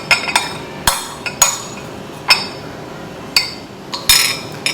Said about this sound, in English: we're going to just put it into